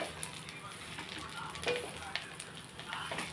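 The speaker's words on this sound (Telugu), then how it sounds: "మనం ఇప్పుడు బాగా ఇవి ఫ్రై చేసేసుకోవాలి." Coriander seeds fry in a little oil in a pan, a quiet, steady sizzle with faint crackles and a few soft stirring scrapes.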